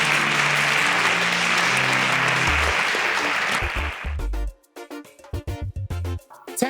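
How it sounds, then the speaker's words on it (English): A studio audience at a quiz competition show gives a loud, even burst of applause that cuts off abruptly after about four seconds. Music with a strong beat follows. "Please, a round of applause for Abdurrahman."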